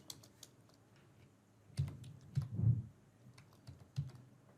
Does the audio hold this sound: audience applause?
no